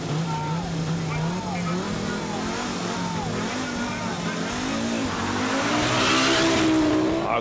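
An Audi Quattro rally car driven by Michèle Mouton on the Otago Rally, its engine rising and falling through gear changes as it passes at close range, growing louder toward the end, with talk over it.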